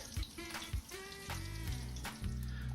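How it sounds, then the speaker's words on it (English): Sausages fry in oil in a pan with a soft, continuous sizzle, broken by a few clattering bumps and light knocks as they are moved around. "Then I just fry them in some oil."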